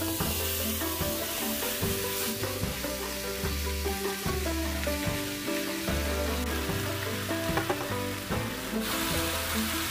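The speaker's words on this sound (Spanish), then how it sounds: "la carne. Vamos a freírla." Beef sizzles steadily in olive oil in a frying pan over medium-high heat, a constant hiss running the whole time beneath loud, rhythmic background music.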